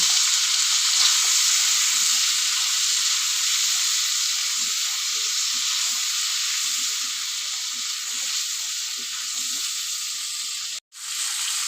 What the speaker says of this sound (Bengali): সুন্দর করে আমি ভেজে নেব।